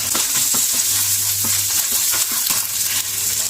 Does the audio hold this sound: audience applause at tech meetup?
no